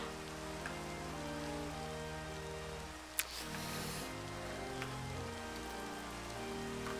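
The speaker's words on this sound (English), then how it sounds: "Oh, it's raining. It rains in arid shrubland, apparently." Rain falls steadily in a video game, a dense even patter over a sustained musical drone, with one sharp click partway through.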